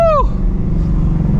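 A 650 hp cammed and procharged 1999 Mustang GT downshifts, its revs sweeping sharply downward for a moment. The engine then settles into a deep, steady rumble, heard close and loud.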